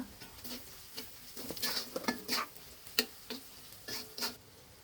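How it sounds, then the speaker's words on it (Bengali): Garlic and cumin paste with spices frying and being stirred in a pan for a radish curry, a series of close, irregular scraping taps and light sizzle with no talking. "রসুন বাটা জিরা বাটা দিয়ে ভালোভাবে মশলাটা কষিয়ে নিব"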